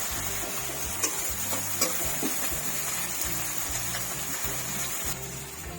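Spice paste sizzles and fries in a pan for a mustard-based bata fish curry with bottle gourd greens, with steady, close scraping and stirring and no talking.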